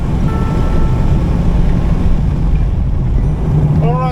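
A car rolls along a racetrack on a slow cool-down lap after the checkered flag at a beginner track day, with a steady low engine and road rumble mixed with strong wind buffeting, loud and close from inside the cabin.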